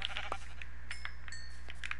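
A baby sheep in Minecraft gives a few short bleats, close and moderately loud against a low steady game background.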